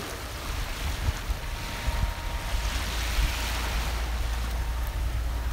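Ocean surf washes steadily onto a beach on a morning walk, a constant broad rush with gentle swells and some wind buffeting the microphone, no voices.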